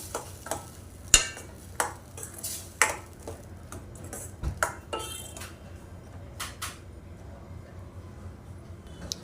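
Apple pieces are stirred into thick kheer in a pot, with repeated clanks and scrapes of a spoon against the metal rim at an irregular pace, close and fairly loud, over a quiet background.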